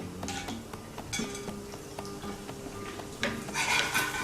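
Pine nuts frying in a couple of tablespoons of hot olive oil in a pan, with a steady low sizzle, metallic clinks and scrapes of a utensil against the pan, close and moderately quiet, no talking.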